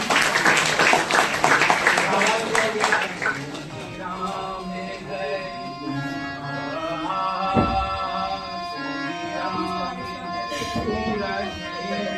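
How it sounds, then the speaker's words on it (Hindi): A crowd claps loudly for a few seconds, then the applause fades under steady music that carries on. "तालियां हो जाए सबके लिए"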